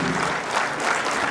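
A crowd at an official gathering of Osh city and regional courts applauds with a dense, steady burst of clapping throughout.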